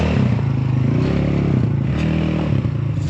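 Polaris RZR 200 side-by-side on bigger wheels and tires pulling away toward the trails, a loud, close engine drone with shifting revs and some rattling clatter.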